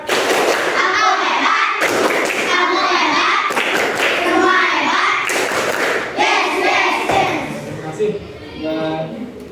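Schoolchildren in a classroom doing the rhythmic 'tepuk anak hebat' clapping routine, with repeated bursts of claps and thuds interleaved with the group's voices chanting along, loud and close.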